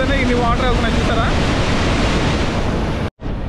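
Water pours through two open gates of Somasila Dam in Andhra Pradesh as a loud, steady roaring rush, with a person talking briefly over it at the start and a short dropout near the end.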